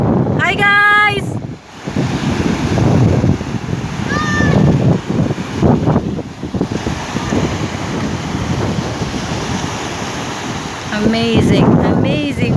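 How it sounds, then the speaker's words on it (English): Big high-tide waves surge and wash onto Salthill Beach, with a steady roar of surf and wind noise buffeting the microphone throughout, while voices speak briefly near the start, around the middle and at the end. "Amazing, amazing waves."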